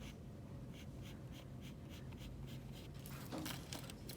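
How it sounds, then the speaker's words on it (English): A pencil draws a clean eyelid line on paper for an eye drawing, making soft, close scratchy strokes in short repeated bursts that grow brighter and busier near the end, with no talking. "I'm going to start on her lid, and I'm going to draw that with a clean line."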